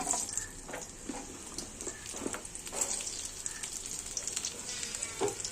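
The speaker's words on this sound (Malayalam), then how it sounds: "നമുക്ക് അതേ വെളിച്ചെണ്ണയിൽ തന്നെ നമ്മളെ മാങ്ങ ഒന്ന് റോസ്റ്റ് ചെയ്തെടുക്കാം" Chopped mango roasts in hot coconut oil with a soft, steady sizzle and crackle, plus a few light clinks and stirring sounds, all fairly quiet and close.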